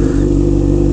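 Honda CBR 600F motorcycle engine revving, a loud, close, throaty mid-pitched drone held steady across the brief moment with no voices.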